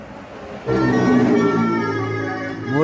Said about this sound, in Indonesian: sebuah truk kontainer Hino.